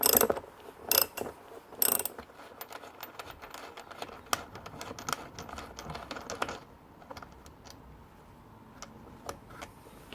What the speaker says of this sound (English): using the 10mm socket, you undo the back of the nuts, holding the front of the bolts with the spanner